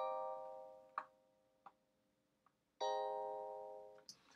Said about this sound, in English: So our next timbre is an electric patch.